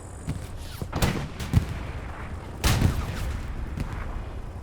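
A Panther tank's main gun going off in a World War II video game battle at Kursk, with heavy booming shots and thuds amid rolling gunfire and ambient combat noise.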